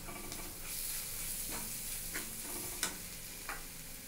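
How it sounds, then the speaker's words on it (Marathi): Capsicum and potato bhaji with spices stirred in a pan: a soft, constant frying hiss with a few light spatula scrapes and clicks at irregular intervals, close but faint, no talking. "आता मी ह्याच्यात हे सगळे मसाले अगदी व्यवस्थित मिक्स करून घेतलेले आहेत"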